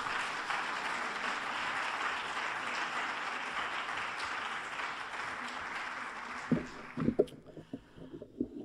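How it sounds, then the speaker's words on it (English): A lecture hall audience claps steadily in a broad, sustained wash to welcome a professor to the lectern. The clapping fades out near the end, leaving a few sparse knocks and thumps. "Will you please join me with a robust round of applause"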